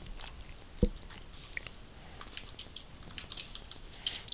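A computer keyboard is typed on with quiet, irregular key clicks up close. One sharper tap stands out among the light keystrokes, and no one speaks.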